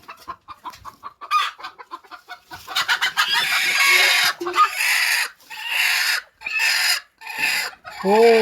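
Hens cluck in short, uneven bursts close by, now and then breaking into louder squawks, with brief pauses of quiet between them.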